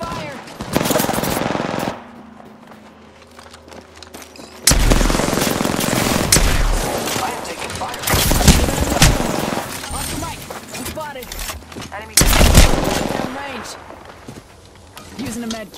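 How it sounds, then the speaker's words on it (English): Repeated bursts of rapid automatic gunfire in the Season 4 battle royale game Apex Legends, loud and close, broken by short quieter gaps, with a voice speaking in between the volleys. "The enemies are shooting at me."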